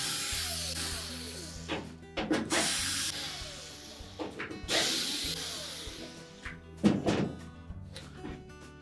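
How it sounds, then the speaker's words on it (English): Retaining screws come out of the back panel of a Whirlpool dryer, with close metallic clicks, ratcheting turns and thunks as the tool works, in several uneven bursts. "Now we'll remove the back panel so that we can change out that switch. Simply remove the retaining screws."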